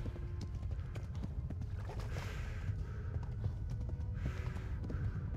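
Horse galloping in the video game Kingdom Come: Deliverance, a steady rapid clip-clop of hooves over a low rumbling game soundtrack, continuous and moderately loud.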